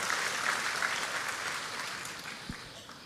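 Steady applause from a church congregation during a sermon, a soft, dense patter of many hands that continues evenly and thins slightly toward the end.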